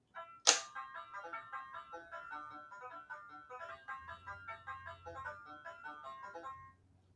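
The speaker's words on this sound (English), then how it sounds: "The only difference is the banjo plays all of it instead of the guitar" A LeapFrog LeapStart Learning Table song played on banjo, bright plucked notes in a quick bouncy melody after a sharp click at the start, faint and thin, with a soft low hum joining near the end.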